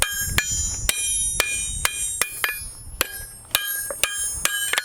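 Hammer pounding heated forging stock over the edge of an anvil while setting a scroll bend: a dozen or so sharp ringing metallic blows at a fairly regular rhythm, close and loud.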